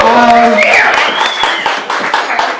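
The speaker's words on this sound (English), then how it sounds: "Give a round of applause" Wedding guests applauding, a loud burst of close clapping with a few cheers that tapers over a couple of seconds, while a voice speaks over the start.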